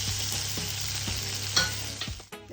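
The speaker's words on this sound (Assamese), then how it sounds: "এতিয়া মই পিঁয়াজখিনি অলপ ৰঙা হোৱাকৈ ভাজি লওঁ" Onions sizzle steadily in hot oil while being stirred for an Assamese fish curry, a close, even crackle broken by a few scrapes of the spoon against the pan.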